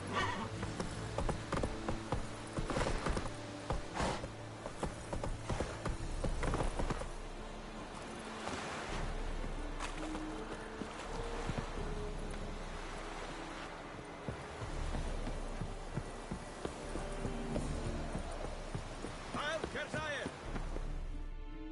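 A ridden horse in a video game, hooves clip-clopping in a steady gait with an occasional whinny, heard at moderate distance under intermittent talking voices over about twenty seconds.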